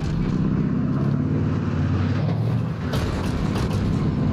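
A truck engine runs steadily and loud throughout, with a continuous low rumble and drone that holds without pause, mixed with broadband mechanical noise.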